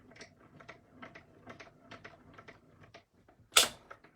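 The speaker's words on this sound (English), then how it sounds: "You do hear some crackling and some popping" A die-cutting machine clicks and crackles in an irregular rapid series as plates pass through, ending in one loud sharp pop near the end, with no talking.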